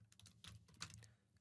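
Fast, light tapping on a computer keyboard while entering a name, a quick uneven run of close, soft clicks heard alone.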